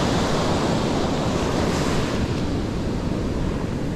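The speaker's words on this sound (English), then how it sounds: "set of waves coming" Ocean waves surging onto a beach, a loud continuous wash of surf with wind buffeting the microphone, no voices.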